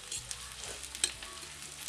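Onion browning in hot oil for a tempered baingan bharta sizzles quietly, with a few light scrapes and stirs and one sharper clink against the pan.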